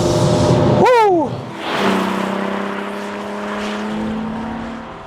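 A Volkswagen Golf R32's naturally aspirated engine revs sharply in a rising and falling sweep, then drops back to a steady, droning hum that holds for several seconds, loud and close.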